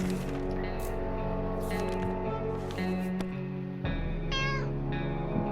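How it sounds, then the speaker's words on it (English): Cats meow repeatedly in 60 Seconds Reatomized, several distinct drawn-out mews over a steady game music bed, close and clear. "Oh, but we have another cat."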